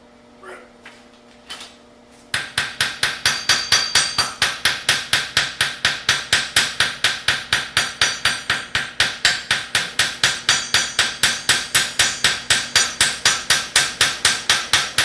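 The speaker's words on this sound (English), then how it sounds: "I'm going to use my itsy bitsy hammer" A small hammer strikes hot metal at a forge in a steady, rapid rhythm of sharp metallic blows, close and loud, after a couple of quieter knocks at the start.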